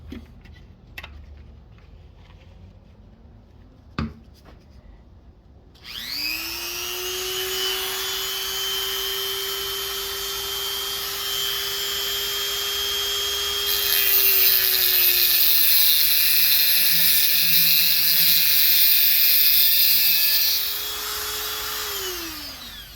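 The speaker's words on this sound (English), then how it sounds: "I'm just gonna cut some grooves in here so I can put this through the back side of the heads and clean out those threads" A power tool cuts grooves into a 5/8 by 11 steel bolt in a garage during 1968 Mustang work, a steady high whining grind for about seventeen seconds after a few quiet knocks.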